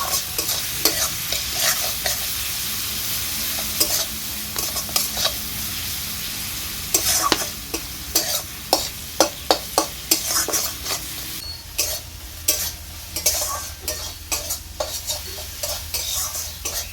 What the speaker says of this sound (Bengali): পেঁয়াজটাকে এবার আমি ভালো করে নেড়ে চেড়ে নেব।